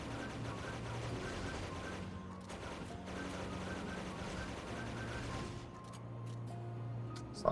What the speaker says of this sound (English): Maybe if I shoot at him, get his attention.